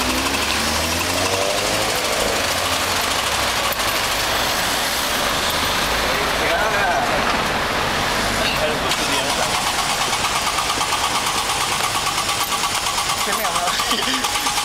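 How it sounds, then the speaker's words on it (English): Engine being kickstarted at a night event in Singapore, with rough loud revving and sputtering running throughout under noisy background, no clear speech. "Kickstart the engine."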